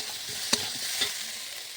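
Potatoes, eggplant and lentil dumplings being stirred in a frying pan, with a soft steady sizzle and two brief scraping knocks of the spoon against the pan.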